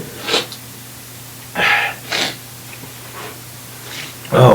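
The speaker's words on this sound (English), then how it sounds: "I might have to sneeze here." A single person sneezes during a spoken talk, with a few breathy sounds and a louder burst near the end.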